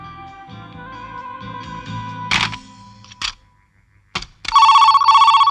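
An old-style telephone bell rings in loud bursts, breaking in over a faint musical background, with a longer sustained ring at the end.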